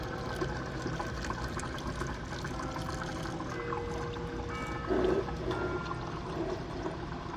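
Engine oil draining from a Buick Turbo Regal into a pan: a continuous close pouring trickle with a short gurgling surge partway through, over a low steady background.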